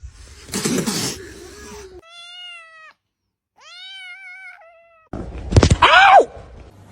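A cat meows several times in a row, short drawn-out cries separated by brief pauses, with some louder, strained vocal noises at the start and end, close to the listener.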